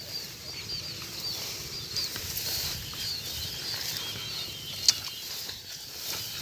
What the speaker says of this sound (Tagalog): may mga tagak din dito na dumadapo no